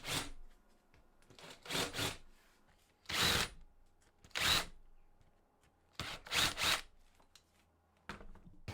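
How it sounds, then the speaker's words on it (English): A countersink bit is worked by hand around the edges of drilled holes in wood, several short rasping bursts of grinding separated by quiet pauses, close and crisp. "I'm going to get the countersink and just use that on them"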